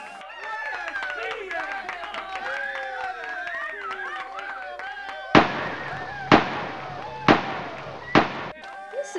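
Four loud, sharp rifle shots ring out at a steady pace at a beer biathlon shooting range, following a stretch of excited voices and crowd chatter.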